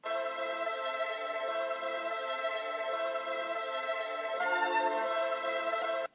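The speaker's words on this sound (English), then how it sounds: "this is the string loop that I'm using right now" Sustained strings hold a smooth chord that shifts once, playing alone with no drums or voice, then cut off abruptly.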